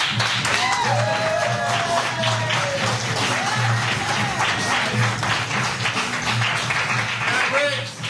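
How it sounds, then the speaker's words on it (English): Comedy club crowd applauding and cheering for a stand-up comic as he takes the stage, a steady wash of clapping with whoops and voices mixed in throughout. "Ladies and gentlemen, big round of applause for Mr. Mikey Manker"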